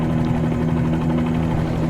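A Bell 47 helicopter idles on the ground at Las Vegas McCarran International Airport in Microsoft Flight Simulator 2020, giving a steady, close, loud engine and rotor drone with a constant low hum and no talking over it.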